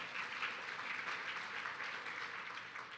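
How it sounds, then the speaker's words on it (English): An audience at a Texas workforce forum gives a round of applause, soft, diffuse clapping from a large room heard faintly and evenly from start to finish. "You can give it a round of applause as well"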